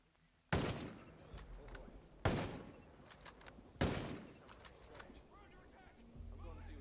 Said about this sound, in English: Alright, I'm shooting.